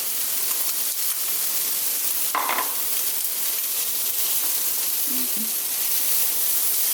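Meat browning in a pan for a vegetable bean stew gives off a steady, even hiss of sizzling fat. It fills the whole stretch with a couple of faint knocks and no speech.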